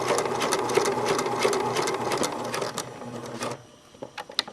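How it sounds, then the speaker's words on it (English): A sewing machine stitches an exposed zipper with a fast, steady mechanical whir and rapid needle clatter heard up close, then stops abruptly, leaving a few faint clicks and handling sounds. "And really go slow so that you can keep that lined up."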